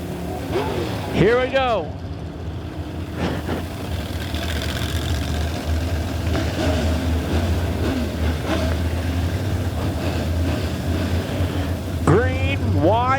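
USRA B-Modified race cars pull away at a green-flag restart at Lebanon Midway Speedway. Engines rumble steadily, with rising revs near the start and end, under continuous announcer talk.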